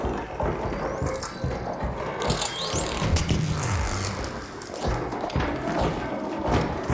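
A grenade lands with dull thuds amid clattering mechanical game noise in Arc Raiders, several heavy knocks and scrapes spread across a busy, fairly loud scene.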